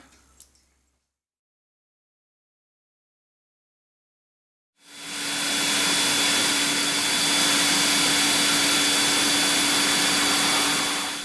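A dust extractor pulling wood shavings off a pen blank turning on a lathe. It starts abruptly after a near-silent pause and becomes a loud, steady rushing roar with a faint high whine that holds to the end.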